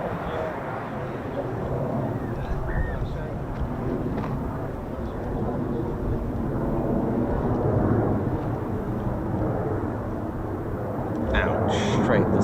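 A KC-135 aircraft passes overhead at an RAF airshow, giving a broad, steady roar that swells and fades, with faint voices beneath.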